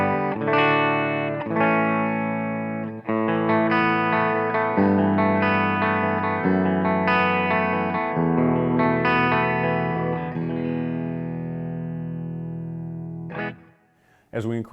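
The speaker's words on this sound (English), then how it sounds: "It's a nice, warm, clean tone with humbuckers." Clean electric guitar tone from humbucker pickups through a Bugera G5 Infinium tube amplifier head: strummed chords and single notes, warm and close, ringing out at the end, with no talking.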